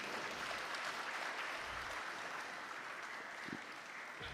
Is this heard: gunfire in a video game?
no